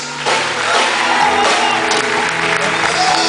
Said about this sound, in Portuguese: As palmas para você nessa noite.